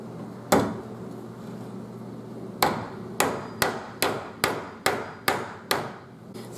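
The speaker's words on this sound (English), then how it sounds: "we're going to drill this thing and hammer a T-nut" A T-nut hammered into a wooden plank: a single sharp blow, a pause, then a steady run of about eight evenly spaced hammer strikes, close and loud.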